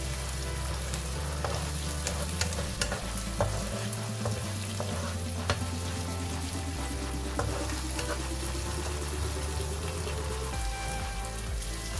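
Blended chili paste sautés in hot oil for a chicken curry made without coconut milk, a loud, dense crackling sizzle like heavy rain, with occasional spoon scrapes and no speech.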